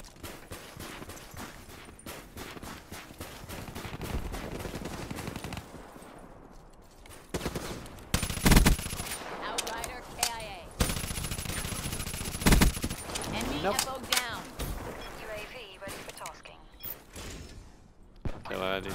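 Rapid automatic XMC gunfire in a video game, with bursts across most of the stretch alongside mechanical clatter, heard under ongoing game talk and effects.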